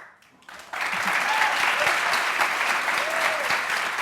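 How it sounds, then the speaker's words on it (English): Applause from a talk show studio audience, starting abruptly after a quiet moment and continuing as steady, dense clapping to the end. "Begrudgingly claps."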